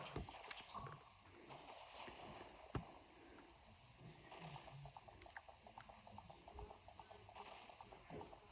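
Soft hoofbeats from a horse clip-clop at a steady walking rhythm in the video game The Legend of Zelda: Ocarina of Time 3DS, faint and spread across the scene.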